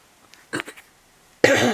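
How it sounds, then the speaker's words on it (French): A woman coughs indoors while doing a diamond painting: a brief throaty cough and smaller follow-up sounds, then a louder harsh cough burst at close range. "Excusez-moi, je vais tousser de temps en temps, j'en suis désolée."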